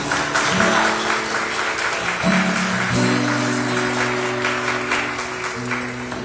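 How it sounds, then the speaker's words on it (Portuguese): Steady applause from a church congregation fills the space, with sustained tonal music or singing running underneath throughout. "aplaude essa nova criatura de Jesus."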